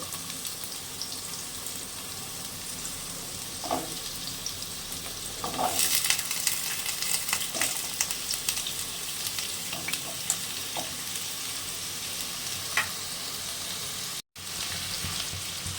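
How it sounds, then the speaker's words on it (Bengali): Pumpkin and potato pieces frying together in oil with nigella seeds and dried chilli, a continuous soft sizzle and crackle with a brief burst of stirring midway, close and moderately quiet, no voices. "একটু ভাজা ভাজা হবে"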